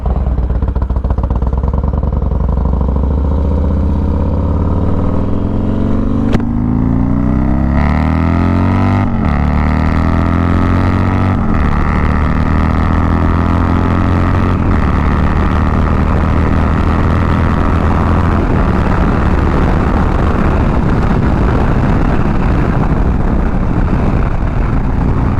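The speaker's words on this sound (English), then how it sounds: "This is my first time riding this bike since I dropped it off in November" A Harley motorcycle ridden at speed, with loud engine drone rising and falling through gear changes, then turning into steady heavy wind roar as it cruises. The sound stays loud and continuous throughout, with no voices.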